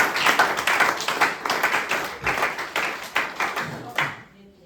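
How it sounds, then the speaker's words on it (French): A church congregation claps loudly for about four seconds, a dense run of hand claps with some voices mixed in, then it stops abruptly into quiet. "Est-ce que nous pouvons applaudir très fort pour la gloire de Dieu?"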